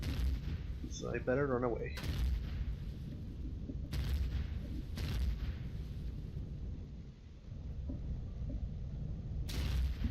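Gunfire striking the player in the space survival game Empyrion, with repeated loud impacts and booming shots at intervals over rumbling background noise, and someone talking briefly.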